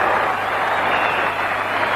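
Rugby World Cup stadium crowd at a Western Samoa vs Argentina match applauding a successful conversion kick, a loud, steady roar of clapping and cheering filling the whole moment.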